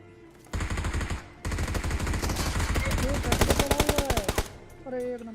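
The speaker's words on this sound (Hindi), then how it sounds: "लेकिन तभी राइट साइड से फायर का साउंड आता है" Video game gunfire from a battle royale-style match rattles in rapid automatic bursts, loud and close, with a long sustained volley and a voice briefly audible near the end.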